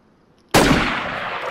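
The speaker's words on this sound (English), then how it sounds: "I'm about to snipe him right now." A sniper rifle in the video game DayZ fires one loud, close crack out of quiet, followed by a sustained rumbling echo that slowly fades.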